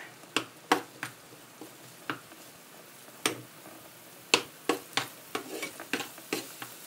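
Garlic fries in a pan for a pork-bone and winter-melon soup, stirred throughout: a soft sizzle runs under a string of sharp clicks and scrapes as the spoon taps the pan, with no one talking.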